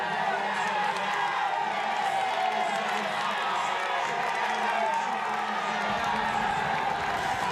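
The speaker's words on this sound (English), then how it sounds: "Let's listen to the crowd around him" A roadside crowd at a gravel road race cheers, whoops and claps in a loud, continuous wall of noise, with a deep rumble joining in near the end.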